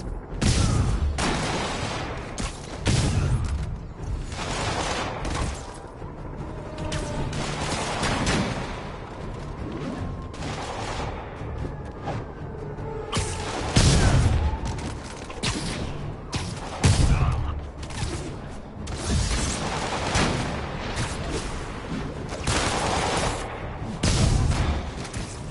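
Escaped convicts firing sniper rifles in Marvel's Spider-Man, a series of sharp, heavy gunshots and booming impacts spread through a dense, noisy action scene, coming every few seconds without a break.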